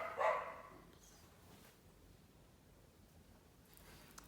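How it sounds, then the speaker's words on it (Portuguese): Dogs bark: a single brief bark sounds at the start, somewhat distant and faint, then only quiet background rustle follows. "Cachorros."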